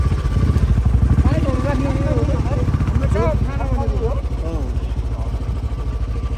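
A motorcycle engine chugs at low speed and idles nearby, arriving at Khangsar village on a monsoon trek route toward Tilicho Lake, with people talking over the steady rumble.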